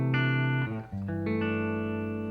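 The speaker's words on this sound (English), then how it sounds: "It's a tube amp, it's a Fender Deluxe." Electric guitar played clean through a Fender Deluxe tube amp with treble high, bass up and a touch of reverb, sounding a few sustained chords that change and ring out loudly, alone.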